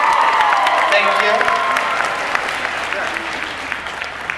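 Audience applause and some cheering fill the hall at a cosplay masquerade at Crunchyroll Expo 2018, a dense, sustained clatter of clapping that slowly tapers, with a voice speaking over it.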